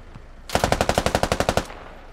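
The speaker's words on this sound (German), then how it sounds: "Ah, die schießen ihn gerade kaputt, die haben einen kleinen Kaliber." Small-caliber automatic gunfire in the military shooter game Squad, a single loud rapid burst of about a dozen evenly spaced shots lasting just over a second, then quiet.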